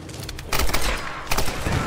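Rapid bursts of gunfire from the 2013 Tomb Raider video game, loud and close, firing in two clusters of shots with a brief lull between them.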